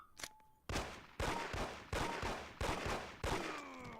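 Repeated loud gunshots in the Mafia video game, five sharp bursts spaced about every half second with ringing tails and a clicking reload between, close and alone without talk.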